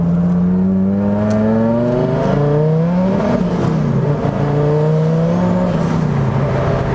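A loud turbocharged V10 Dodge Viper GTS engine revs up and down, rising and falling in pitch with a smooth high-pitched roar, close and continuous.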